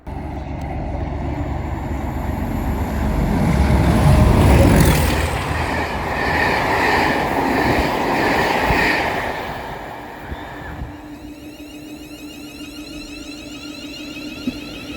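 A freight train rolls through Congleton railway station, a loud, sustained rumble and rattle of wagons building to a peak and slowly fading, with faint clicks of wheels on rail joints afterwards.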